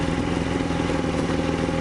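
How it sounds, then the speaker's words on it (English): A Suzuki GSX600 motorcycle idles high with a steady, loud, close mechanical drone and faint clatter, running continuously without pause. "see now it's idling high"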